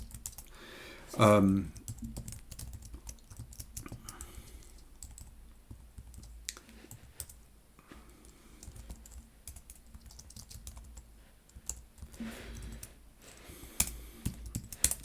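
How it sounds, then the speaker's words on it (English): Typing on a computer keyboard during a Node-RED development stream, a steady run of close, quick key clicks with a few louder bursts, under background noise and occasional speech. "Oh man, my typing's going to pop."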